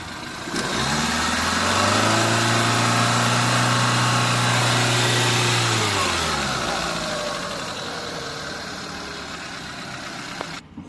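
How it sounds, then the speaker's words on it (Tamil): A Hyundai i10 car engine cranks and catches, revs up with a steady droning hum, then settles down into a smooth, quieter idle. "இன்ஜின் ஸ்டார்ட் பண்ணி பார்த்துடலாங்க."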